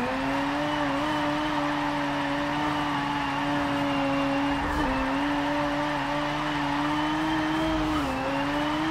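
A Mazda RX3 drifting on the Rio full circuit in Forza Motorsport 7, with a sustained engine drone and continuous tire squeal whose pitch wavers and dips briefly, loud and close throughout.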